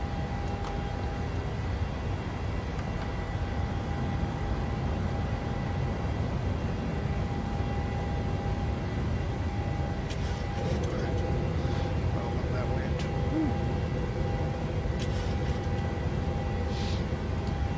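Airliner engines in a flight simulator game hold a steady loud roar through the takeoff roll and climb, with a constant tone running underneath, while a pilot calls out the procedures.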